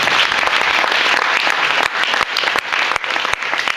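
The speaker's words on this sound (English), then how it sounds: "Please, a round of applause." Audience applause after a speech at a number-crunchers grand champion round, dense and steady clapping filling the room for nearly four seconds with a few sharper claps near the end.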